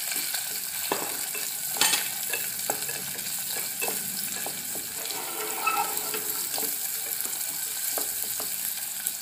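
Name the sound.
onion sautéing in oil with cinnamon and cloves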